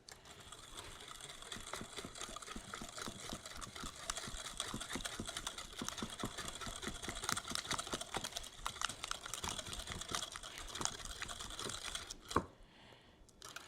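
Eggs, yolks, vanilla and salt are whisked briskly in a bowl for a pie filling, a steady fast rattling and scraping that runs continuously, then stops with a clunk near the end.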